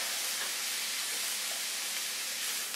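Garlic dropped into a hot pan on medium-low heat with onions for Afghani chicken gives off a continuous, even sizzling hiss with no talking.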